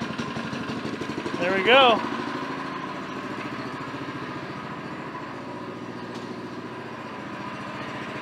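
A Predator small engine swapped onto a Coleman go kart runs at a steady low idle after being pull-started, a continuous putter close by, with brief talk near the start.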